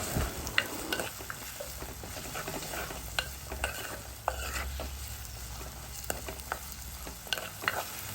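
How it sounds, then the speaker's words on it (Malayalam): Curry leaves and masala sautéing over a medium flame for a fish curry, with a steady low sizzle and repeated scraping stirs of a spoon against the pan, close and continuous, with no talk. "നമുക്ക് മീഡിയം ഫ്ലെയിമിലിട്ടിട്ട് ഇത് നന്നായിട്ടൊന്ന് മൂപ്പിച്ചെടുക്കണം"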